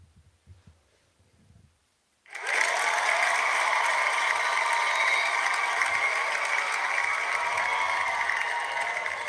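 A canned cheering-and-applause effect on a gaming livestream starts abruptly after a brief near-silence and continues as a dense, steady crowd roar of clapping and cheers.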